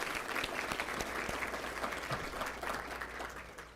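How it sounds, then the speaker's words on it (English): An audience at a statewide veterans symposium general session gives a sustained round of applause, a thick crowd of clapping hands that holds steady before tapering off at the end. "round of applause"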